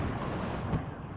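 Romor units firing in the WARNO real-time strategy game, a dense rumbling barrage of low booms and overlapping artillery-like blasts that runs without pause through the whole short stretch.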